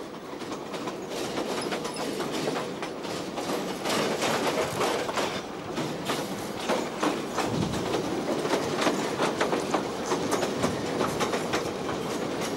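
Steam locomotive number 204 running on an Eastern European or African railway, a steady loud rumble of wheels and clattering rail joints, rhythmic clickety-clack throughout, no talking.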